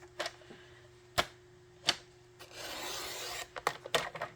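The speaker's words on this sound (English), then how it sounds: "I think we're going to cut off this end." Scissors cut the end off a paper strip during card-making, a quiet close sequence of sharp snips and clicks. A brief papery rasp runs through the middle.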